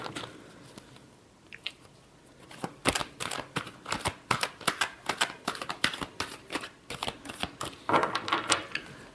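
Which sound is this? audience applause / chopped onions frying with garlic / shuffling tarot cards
shuffling tarot cards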